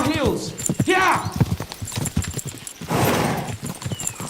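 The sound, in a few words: galloping horses in video game Kingdom Come Deliverance II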